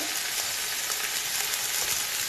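Onions, leek, garlic and parsley sizzle in a hot pan over a strong flame, making a steady, close, continuous frying hiss with no talking.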